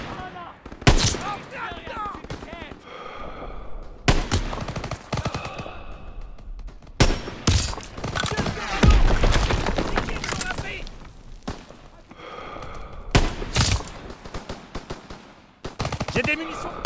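Machine gun fire in the WWII shooter game Call of Duty WW2, loud rapid bursts and scattered shots recurring throughout, mixed with shouting voices.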